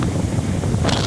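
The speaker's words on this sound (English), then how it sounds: "it's a little windy here" Steady wind buffets the microphone on a deck boat near a bank, a continuous, loud, rumbling roar that swells slightly toward the end, with no voices.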